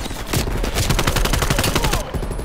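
Rapid automatic gunfire from the video game Call of Duty: Black Ops Cold War, loud and close, dense bursts of shots running continuously with a brief lull near the end.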